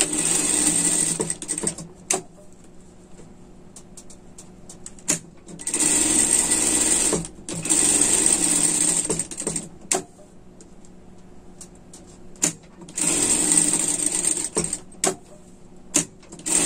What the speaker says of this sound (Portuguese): E passar uma costura de segurança aqui embaixo